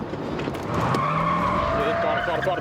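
A car accelerating and skidding, its engine rising in pitch beneath a sustained tire squeal that swells and holds near the end, close and fairly loud.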